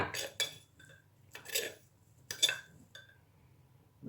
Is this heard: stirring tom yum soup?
yes